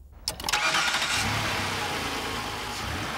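A 1993 Ford Taurus SHO engine cranks and fires up, then settles into a steady, throaty idle close by.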